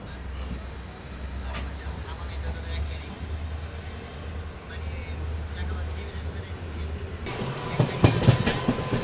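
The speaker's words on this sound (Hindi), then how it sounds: "अपनी ट्रेन के भी डिपार्चर का संकेत हो गया यहाँ से" Train on the Goa to Londa line pulling away and picking up speed, a steady low rumble with rail clatter building louder toward the end.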